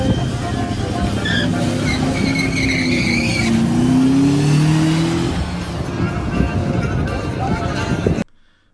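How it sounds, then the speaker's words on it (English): Engine of a Jeep racing a red Nissan, a loud, sustained roar with rising revs and some tire noise running about eight seconds before cutting off abruptly, with excited voices over it. "That Jeep is smoking that Nissan."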